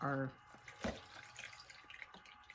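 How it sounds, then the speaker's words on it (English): A sponge rinsed under running water while applying brush-on glaze to pottery, a short close trickle and splash from a tap, with a brief voice at the start. "So I rinse out my sponge"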